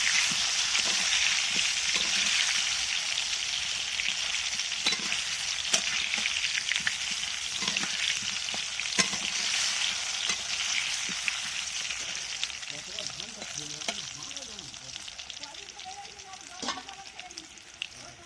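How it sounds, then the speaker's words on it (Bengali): Potatoes frying in hot oil in a pan, cooked slowly as they are turned. A loud, continuous close-up sizzle with crackling pops runs the whole time, with no voices over it. "এবার আমি আলুগুলোকে আস্তে আস্তে ভেজে নিচ্ছি"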